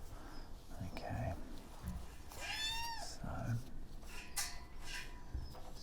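A small kitten at an animal sanctuary in Tenerife, wrapped up for a blood test, gives a few thin meows, one rising and falling cry standing out between quieter sounds and soft handling noise.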